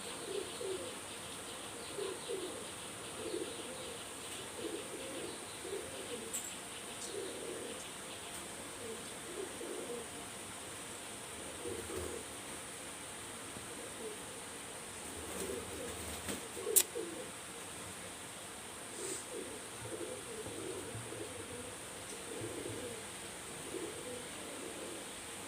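Teddy pigeons coo in a loft, soft repeated low coos in a steady rhythm, fairly near but quiet, with occasional chirps and a brief flutter.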